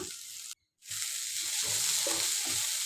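Soya chilli roasting in a pan over a high flame, a strong continuous sizzle with a brief drop to silence early on, then steady crackling frying and occasional stirring scrapes.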